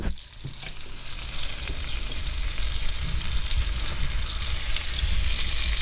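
Mule deer neck roast browning in a great-grandma's Dutch oven, a loud continuous sizzle and crackle that builds slightly, with a brief clatter at the start.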